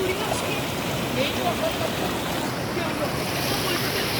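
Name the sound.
river water flowing at hidden dargah waterfall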